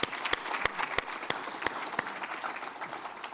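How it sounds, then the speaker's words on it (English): Audience applause at the SyliusCon 2025 opening keynote, a steady burst of many hands clapping with a few sharp louder claps standing out, fairly faint and distant, with no talk over it. "give a warm round of applause to Szymon."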